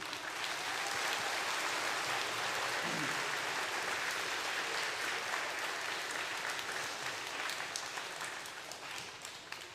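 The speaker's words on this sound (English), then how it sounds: "So I want to applaud all of you before we go on" Audience applause filling a room at an amateur radio club gathering, a dense steady clapping that carries on for the whole stretch and only eases slightly near the end.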